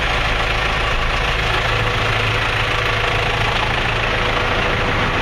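A tractor engine with grid heaters idles loudly and steadily just after a cold winter start, a close, continuous rough rumble with a knocking, vibrating chug and no talk over it.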